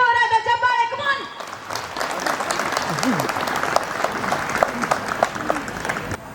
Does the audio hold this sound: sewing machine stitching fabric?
no